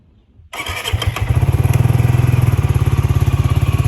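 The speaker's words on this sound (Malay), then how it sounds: "Walaupun di satu silinder motor dia bunyi agak garang." A Benelli Leoncino 250 single-cylinder motorcycle cranks and fires up after a brief silence, then settles into a loud, close, rhythmic thumping idle with a gruff, pulsing beat.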